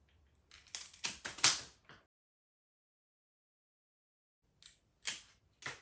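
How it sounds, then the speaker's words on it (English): Pruning shears snip through flower stems for a bridal bouquet in two bursts of sharp, close clicks and cuts, separated by a few seconds of silence. "I love using these pruning shears because they cut so well through flower branches"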